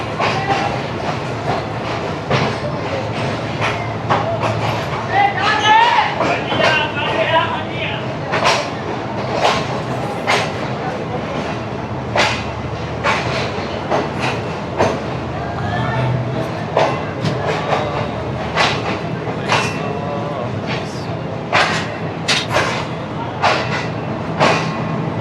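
A Shalimar Express train at Rohri junction: a steady rumble with a long run of sharp, regular wheel clacks as the cars roll over rail joints, loud and close throughout.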